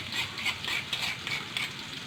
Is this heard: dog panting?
no